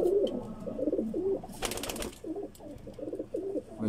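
Teddy and golden pigeons on a rooftop coo in repeated low, rolling phrases close by, with a brief burst of wing flapping partway through.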